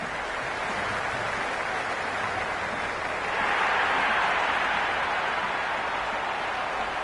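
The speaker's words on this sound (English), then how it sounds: "the crowd have joined the party. It's pretty noisy at the ground" Crowd roar filling a cricket stadium during an India versus South Africa T20 match at Narendra Modi Stadium, a steady loud wash of noise that swells partway through.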